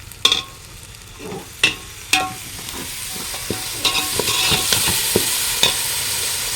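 Yogurt being stirred into turkey biryani masala with garlic-ginger paste in a hot pot, giving repeated scraping spoon strokes over a soft sizzle of frying, close and moderately loud with no talk.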